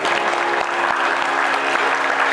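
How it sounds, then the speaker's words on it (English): Dense, steady audience applause at a cannabis and real estate event, a continuous wash of many hands clapping with no talk over it. "Please, round of applause for Mr."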